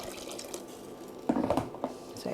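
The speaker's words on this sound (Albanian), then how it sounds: "Do të shtoj dhe pak me ujë." Water poured into a pot of homemade porridge, a soft trickling and splashing that starts faint and swells into a few louder gushes near the end, with no voices.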